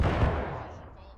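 A musket volley in the War of Rights video game, a loud, crackling burst of massed gunfire already under way that rolls off into a fading rumble.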